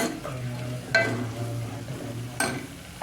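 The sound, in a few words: stirring eggplant dish after adding garam masala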